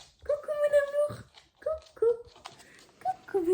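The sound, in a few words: dog Kheops whimpering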